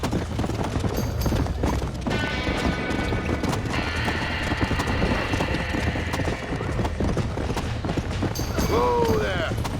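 Hooves clatter rapidly as horses gallop from a burning barn in Red Dead Redemption, with a horse neighing near the end, amid a busy mix of voices and game noise.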